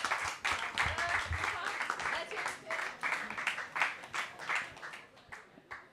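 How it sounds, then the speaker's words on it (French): A judged audience claps for a team's pitch at a pitch-and-beer contest, dense applause running steadily throughout with voices and cheers mixed into it, fading slightly toward the end. "on applaudit"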